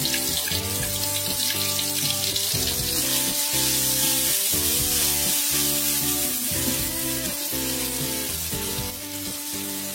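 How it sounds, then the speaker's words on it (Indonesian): Ground spice paste being sautéed in hot oil sizzles steadily and loudly, a constant crackling hiss with rhythmic stirring scrapes throughout, alone without talk. "Kemudian tumis bumbu yang sudah dihaluskan tadi sampai harum ya teman-teman"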